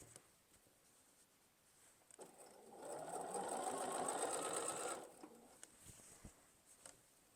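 A sewing machine runs steadily for about three seconds, stitching binding down the side of a quilt; the whirring motor is fairly close and loud, with quieter handling sounds before and after.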